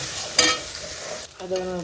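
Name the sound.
frying boiled garlic with turmeric and chilli powder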